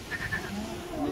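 A hungry goat, unfed for two days, bleats in a short wavering call close by, with faint voices in the background.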